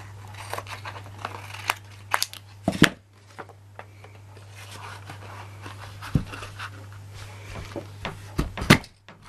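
Scissors cut paper for an envelope, giving a series of close, crisp snips and rustles at an uneven pace, with a steady low hum in the background throughout.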